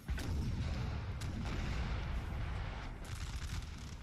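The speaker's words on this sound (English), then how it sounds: "That was Russian artillery. Shooting their own forces in the back." Russian artillery fire in a Napoleon: Total War battle, a dense rumbling roar of booming cannon shots blending together, loud and continuous with a few sharper reports standing out.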